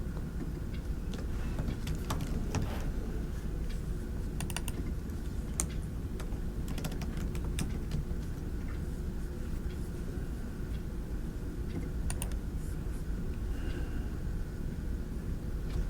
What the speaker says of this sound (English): I can start typing in my name and such